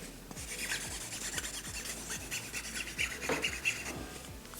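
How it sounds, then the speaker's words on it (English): An object is rubbed across a Mulberry FineWoven iPhone 15 case, making repeated close, scratchy brushing strokes in a steady back-and-forth rhythm. "run an object on this case so you guys can listen to what the sound it makes is when something,"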